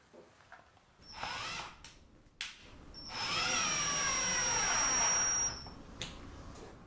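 Power drill driving a screw through a plywood shim beneath two panels, with brief bursts followed by a sustained high whine of several seconds, close and clear.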